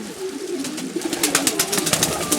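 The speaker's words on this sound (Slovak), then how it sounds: "Ale tu je taký holubok, aha, červený." Pigeon cooing nearby, a series of soft rhythmic coos repeating through the moment, with light rustling and no talk over it.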